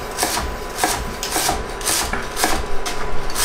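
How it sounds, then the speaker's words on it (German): Knife chopping white cabbage on a wooden cutting board set on a damp cloth, heard as repeated rasping cuts at a steady, close, moderately loud rhythm without talk. "So, den Weißkohl habe ich geschnitten."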